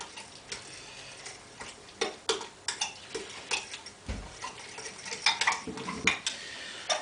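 Metal utensils scrape and clink against a pot as food is stirred during home cooking, a steady run of close, light ticks and taps with no talking.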